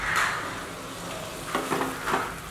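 Spices fry in hot oil in a pan for a fish curry, a close crackling sizzle with a few stirring scrapes over a short stretch.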